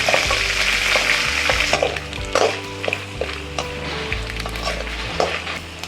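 Curry leaves and chana dal crackling in hot oil for avarekalu upma, a dense continuous sizzle close up, with occasional scrapes and knocks of a spoon stirring the pan and a low hum beneath.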